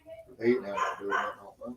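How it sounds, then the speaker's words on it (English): Dogs bark and yip on and off under a man's speech, fairly close and mixed in with his talking. "He's sorry that the dogs are barking."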